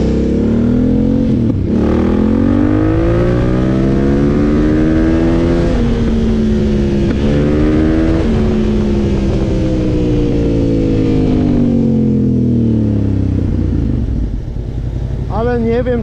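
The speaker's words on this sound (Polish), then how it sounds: "Ale nie wiem, czy taki głośny wydech chcę mieć." A vehicle fitted with a loud aftermarket exhaust drones and revs steadily up and down in pitch, close and loud throughout, with a voice speaking over it.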